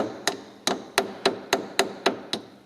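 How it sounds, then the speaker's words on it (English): A hammer taps a steering flange on a car steering box, about nine sharp metallic strikes in a steady rhythm, close and clear with no talking. "We're just going to see if we can tap that flange up any further"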